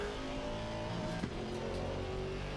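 Race car engine in a sim racing game at Brands Hatch, droning steadily as it accelerates out of a corner, with harmonic engine tones holding loud and continuous throughout.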